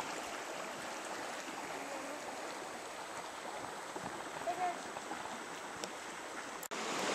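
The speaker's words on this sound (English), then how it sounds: "Here's Big Sandy River" Big Sandy River near the trailhead in early August, a steady broadband rush of flowing water heard close and continuous, with no voices over it.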